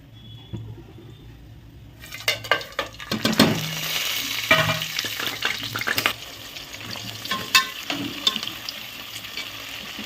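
Whole garam masala spices fry in hot oil, starting with a quiet hum and then breaking into loud, busy sizzling and popping with occasional utensil clinks, close by and with no talking.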